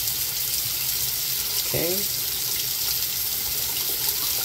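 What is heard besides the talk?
water running from Moen Karis bath faucet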